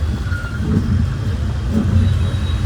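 A Bajaj auto rickshaw pushes through congested street traffic in heavy rain in Virar, its engine a close, steady rumble with a brief rise in revs and a surrounding traffic hum.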